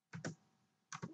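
Keys on a computer keyboard are typed in two short bursts of a couple of clicks each, close and quiet in a still room.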